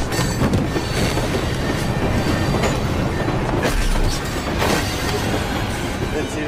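A loud train rumbles and rattles along the tracks, with clattering wheels and bursts of metallic noise throughout.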